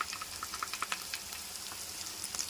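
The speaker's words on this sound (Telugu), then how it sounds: "ఆనియన్స్ బాగా వేగిన తర్వాత నూరి పెట్టుకున్న అల్లం పచ్చిమిర్చి ముద్దని" Onions frying in a pan with ginger and green chili paste, a quiet close crackling sizzle with small popping bursts and light stirring scrapes, no voices.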